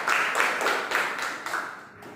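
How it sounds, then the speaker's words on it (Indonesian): Classroom applause from students after a group presentation, a dense wash of clapping that swells and fades over about two seconds at moderate loudness, with no talk over it. "tepuk tangan untuk kita semua"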